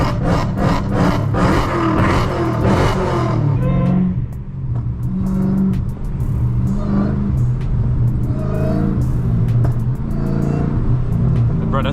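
A 1000 hp Dodge Hellcat Redeye engine roars and revs hard, a loud throaty rumble rising in pitch up front, then settling into a deep sustained growl.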